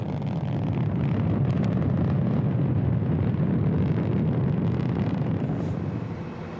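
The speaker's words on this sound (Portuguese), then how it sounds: "Os foguetes propulsores sólidos e 3 motores de foguete a combustível líquido que ficam no próprio ônibus espacial." Space shuttle launch with solid rocket boosters and three liquid-fuel main engines: a loud, continuous, broadband roar and crackle with no breaks, sustained throughout and easing slightly at the end.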